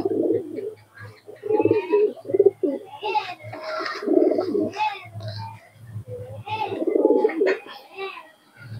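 A female Kaldoma pigeon for sale coos in repeated low, throaty bursts, close and fairly loud, while someone speaks intermittently over and between the calls.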